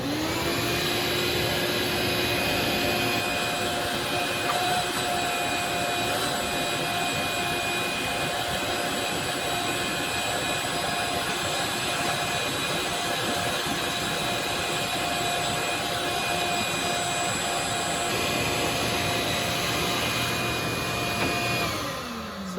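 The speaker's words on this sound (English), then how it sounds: "I'm going to take the vacuum out, and we just vacuum out the plastic." A vacuum cleaner sucks plastic chips out of a CNC machine's work area, a steady, loud whining roar with a fixed tone that starts abruptly, runs continuously for about twenty seconds and then cuts off.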